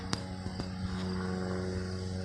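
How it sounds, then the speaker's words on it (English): Distant airplane climbing overhead: a faint, steady propeller drone with a low engine hum persisting throughout, accompanied by a few sharp nearby clicks. "That plane here looks like it's trying to climb."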